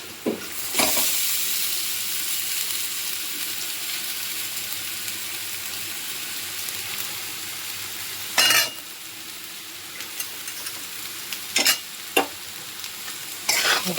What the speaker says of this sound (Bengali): এবার যে ভাতটা আমার আছে সে ভাতটা আমি এর সঙ্গে মিশিয়ে দেব